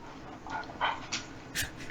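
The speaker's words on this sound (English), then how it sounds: "Dog." A dog gives a few short yips and whimpers, spaced out and fairly quiet, with a low background hum.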